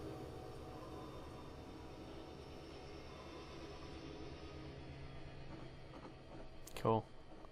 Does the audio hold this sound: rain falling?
no